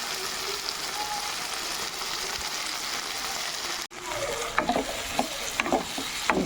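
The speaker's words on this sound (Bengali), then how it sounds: "মশলা ভাজা হয়ে গেছে" Whole spices and tomato fry in a pan, a moderate steady sizzle that cuts out briefly, then resumes with scattered crackles and stirring clinks close by.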